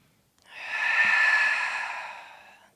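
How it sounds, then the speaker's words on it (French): A single long, audible breath drawn in during a Pilates breathing exercise, close to the microphone, rising and then tapering off over about two seconds against near silence. "Inspire, on le fait une dernière fois."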